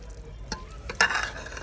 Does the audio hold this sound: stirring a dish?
yes